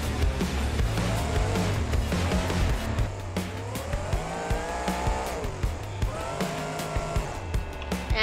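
A monster truck at a Monster Jam two-wheel and freestyle event in BeamNG Drive, its engine revving and surging loudly with rising and falling pitch while tires squeal and skid, and music plays underneath.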